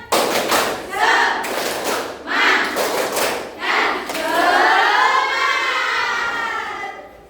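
A high-school class in Indonesia does a rhythmic spirit clap, with several sharp bursts of group clapping in a patterned beat, then a louder sustained stretch of clapping and crowd noise that fades at the end.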